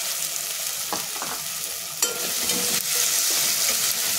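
Onion, tomato and corn fry in a pan with a loud, constant sizzle, punctuated by a few scraping stirs and clicks of the spatula against the pan.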